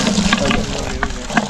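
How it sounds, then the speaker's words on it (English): Water from a garden hose gushes steadily into a container, a close splashing rush with a few small clicks. "hand me the hose, I'll fill it"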